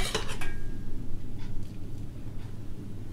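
Metal pots and pans clank briefly at the start while potatoes cook, followed by a few softer scattered knocks over a low kitchen hum.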